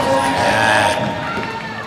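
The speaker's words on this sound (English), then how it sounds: "You can hear the crowd" Spectators cheering at a BMX park contest, a brief burst of shouting and crowd noise that drops off sharply halfway through, leaving quieter background chatter.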